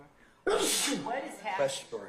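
A sharp sneeze bursts out in a courtroom during a criminal trial, loud and close, with people speaking before and after it.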